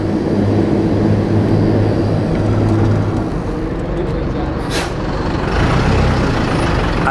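A truck in street traffic pulls to a stop, its heavy low engine rumble steady and close, with a short hissing air-brake burst near the end.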